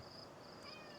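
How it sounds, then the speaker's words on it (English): A faint, thin cat meow rises briefly over a quiet background hiss, heard alone with no talking. "That's one fucking nice kitty right there."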